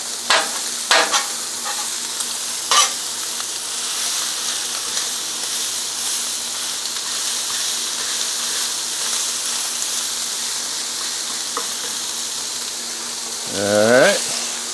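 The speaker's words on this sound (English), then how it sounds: "all we want to do really is just soften the vegetables up" Vegetables for shrimp and grits softening in a hot pan with bacon nearby, a continuous close sizzle and hiss punctuated by a few sharp utensil clacks and a brief scrape near the end.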